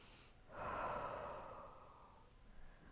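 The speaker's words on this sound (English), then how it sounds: "We'll take just a couple breaths here." One slow, deep breath during a yoga session, a long soft airy exhale swelling and fading, close and quiet with no talking.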